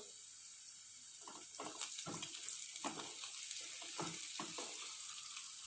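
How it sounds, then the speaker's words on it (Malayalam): Curry leaves drop into garlic frying in oil for mango pickle. A steady sizzle sits underneath, with repeated crackling bursts and spits up close. "നന്നായിട്ട് വഴന്ന് വരട്ടെ. കരിവേപ്പില ഇട്ട് കൊടുക്കുക."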